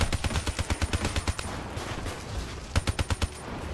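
Rapid bursts of automatic gunfire from the Man O' War rifle in Call of Duty Black Ops 3, two loud close volleys of quick sharp shots separated by a brief lull, with no talking.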